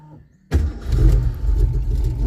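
A Ford Mustang project car's engine cranks and fires after a half-second of near silence, then settles into a loud, steady, rumbling idle close by.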